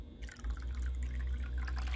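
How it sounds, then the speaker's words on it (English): A splash of vodka poured into a mixed drink, a brief liquid trickle and light splashing that lasts about two seconds, close and fairly quiet, with no talking. "And then more vodka. Just a splash, though."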